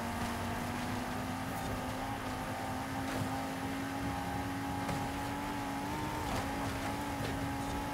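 Opponent car's engine in the racing video game Forza Horizon 5: a steady, sustained engine drone with a faintly wavering pitch, running loud and continuous throughout.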